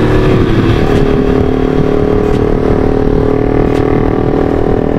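A Honda CB150R motorcycle engine runs loud and close during a test ride, holding a steady, buzzing drone with a constant low rumble throughout.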